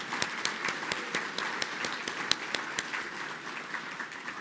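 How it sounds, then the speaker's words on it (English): Applause for sponsor TD Bank Group at a dinner event, light and fairly distant clapping from a modest crowd, with a few distinct claps standing out over a soft, steady patter. "let's clap for the TD Bank Group"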